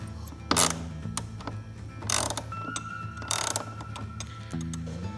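Ratchet clicks in short bursts while loosening the top fairing support bracket bolts on a 2025 Harley-Davidson Road Glide, close up with quiet pauses between strokes.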